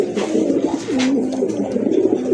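A pair of pigeons coo close by in repeated low, rolling, throaty calls, loud and clear with no talking.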